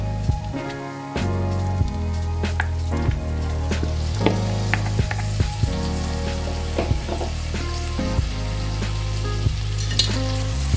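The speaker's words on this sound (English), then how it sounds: "And now I'll be adding in the marinated prawns." Marinated prawns fry in masala in a hot pan, a dense steady sizzle with small crackles and pops and the occasional scrape of stirring, loud and close with no talking.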